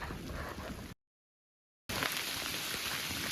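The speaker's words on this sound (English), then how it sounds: "it is pouring rain" Pouring rain on a wilderness trail, a dense steady hiss that cuts out to silence for about a second and then resumes just as heavy, no voices.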